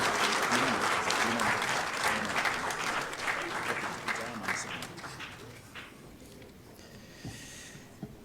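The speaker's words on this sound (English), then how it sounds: "Shall we please give His Royal Majesty another big round of applause?" A large audience at a formal mediation gathering gives a loud, dense round of applause for His Royal Majesty, which tapers off and fades over several seconds, leaving faint murmurs.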